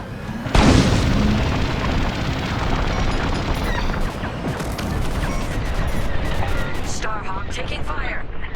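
Starfighter weapons fire pounds a Starhawk capital ship in the Star Wars: Squadrons video game, a steady barrage of loud booming impacts and crackling blasts lasting several seconds, with a voice talking faintly underneath.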